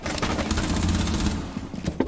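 Rapid automatic gunfire from a first-person shooter match of Rainbow Six Siege, dense loud bursts filling the moment with a few sharper shots near the end.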